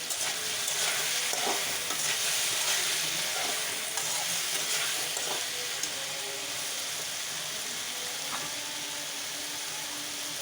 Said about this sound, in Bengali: শুধু তরকারিটা ভেজে নিয়েছি।